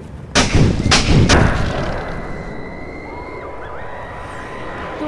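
Three heavy, booming gunshots from a mobile shooter game fire in quick succession, loud and close, then give way to a lingering rumble and faint tonal game sounds.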